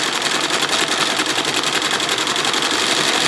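An embroidery machine stitches a design onto the back of a lined nylon shell jacket, giving a steady, fast, continuous mechanical whir with rapid needle chatter, close and loud throughout with no talking.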